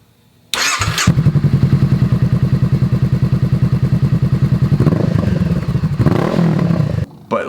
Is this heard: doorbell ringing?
no